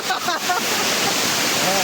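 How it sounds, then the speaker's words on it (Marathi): A small waterfall with strong pressure roars in a steady, loud, close wash, and a voice speaks over it near the start. "छोटा धबधबा आहे पण लय मोठा एवढा भयानक प्रेशर आहे"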